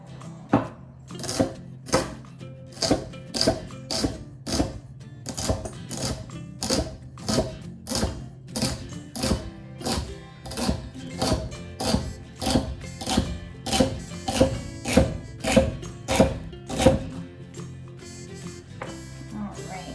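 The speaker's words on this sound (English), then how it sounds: "I am going to just start from the right end and hold the other hand with my left hand and just slice it into small little pieces" Knife chopping cooked chicken into small pieces on a cutting board for chicken salad, a steady run of about twenty crisp, evenly spaced taps at close range.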